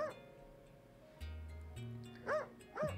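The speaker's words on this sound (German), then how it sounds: "Oh, der Doggy." A dog in the video game Eastward gives short yips and whimpering barks, a few bright cries near the end over soft game music.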